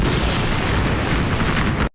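A loud thunder crack used as a film sound effect in a rainy city scene, a dense booming roar that fills the whole space for nearly two seconds and then cuts off abruptly.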